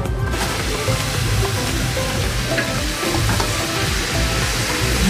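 A spice mix hits browned onions in a hot pan, producing a loud, dense, continuous sizzle and crackle with stirring, close by and without talk.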